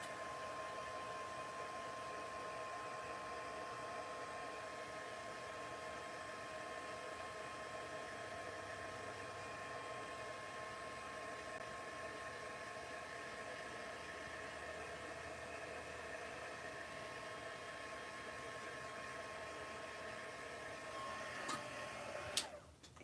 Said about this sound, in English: I'm going to turn on a heat gun because I need to melt this real quick.